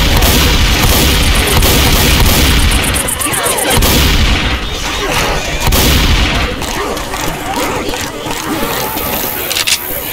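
Shotgun blasts in the zombie shooter game Left 4 Dead 2 boom repeatedly at close range over a dense, loud game soundscape of scrapes and action.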